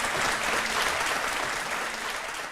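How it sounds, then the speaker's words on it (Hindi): Audience applause at a televised courtroom-style talk show, a steady wash of clapping from a large studio crowd that stays loud and even throughout, with no talk over it. "ताली बजा दो"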